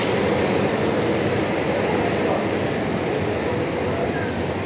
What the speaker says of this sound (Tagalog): Arriving at Venice Santa Lucia Station. Italo Treno pala ito.